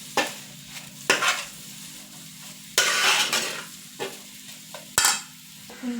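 Chicken fried rice masala frying in a pan is stirred in several bursts of loud scraping and sizzling against a softer steady sizzle, close up and without talking.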